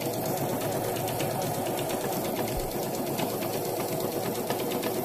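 A Juki industrial sewing machine used for semi-edging runs steadily at close range, a continuous dense mechanical whir with a fast even stitching rhythm throughout.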